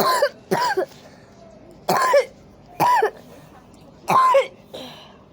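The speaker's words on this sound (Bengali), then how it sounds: "তুমি তো কাশলে" A person coughs in five separate harsh bursts spread at uneven intervals. The coughs are close and loud, with quiet pauses between them.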